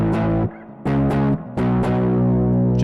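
An electric guitar with a distorted tone chugs through the opening riff of "Hit Me With Your Best Shot", playing loud, sustained power chords with brief breaks between them.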